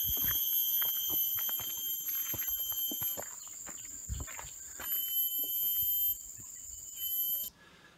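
Cicadas in George Town, Penang, Malaysia give off a high, piercing, electronic-sounding screech, steady and continuous with a few shifts in pitch, then cutting off abruptly near the end, over street clatter and brief thumps.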